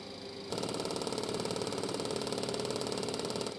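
A Boeing 727-200 stall warning in a flight simulator kicks in after a brief pause and keeps up a rapid, even mechanical rattle over a steady cockpit hum.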